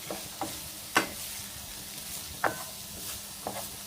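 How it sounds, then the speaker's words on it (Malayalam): Grated beetroot and coconut get stirred and lightly fried in a pan for a Kerala chammanthi: a soft sizzle runs underneath as a spoon scrapes and clicks a few times at irregular moments, and nobody speaks. "ഒരു 5 മിനിറ്റോളം ഒന്ന് മിക്സ് ചെയ്ത് ചെറിയൊരു ഫ്രൈ ആയി വരും"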